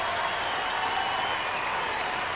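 Arena crowd at the 1994 Lillehammer Olympic figure skating free skate applauds as Nancy Kerrigan takes the ice. Distant clapping forms a steady, even roar heard at moderate level throughout.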